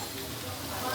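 Chicken mince fries in a pan with chopped carrots and green chilies, giving a steady, soft sizzle with a faint crackle during one brief moment, with no voices over it.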